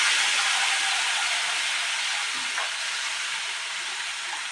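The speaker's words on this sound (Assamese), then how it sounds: "যিখিনি মই পিহি ৰাখিছিলোঁ সেইখিনি এতিয়া ইয়াতে ধুনীয়াকৈ ভাজি ল'ম" Ground pennywort (bor manimuni) paste fries in a pan with an even, close hiss that fades slightly, with a faint clink midway.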